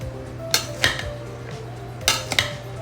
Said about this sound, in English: So I'm just mixing it all up.